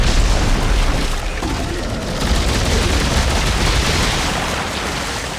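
A rifle fires in the sci-fi horror shooter Dead Space 3, sending out a loud, continuous barrage of shots and booming impacts that blur into a dense roar for the whole span, with no voices over it.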